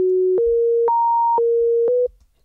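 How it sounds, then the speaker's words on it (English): A pure sine-wave tone from the Serum synthesizer's additive section plays as a clean, loud sequence of sustained notes stepping up and down in pitch, each held about half a second, ending abruptly. "add a bin right on the fundamental to create a pure sine wave"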